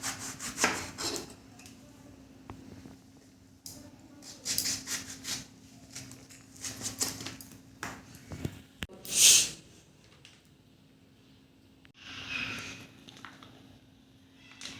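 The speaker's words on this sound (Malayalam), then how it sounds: "വഴുതനങ്ങ ബജി ഉണ്ടാക്കാനാണ് ഞാൻ മുറിച്ചെടുക്കുന്നത്." A knife cuts a brinjal into thin slices for bajji on a board, giving a series of short, crisp, close cutting strokes in an irregular rhythm with quiet pauses between them.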